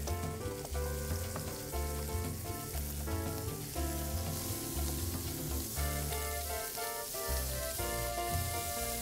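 Garlic frying with lobster tail, knuckle and claw meat in butter, a loud continuous sizzle, with music playing throughout.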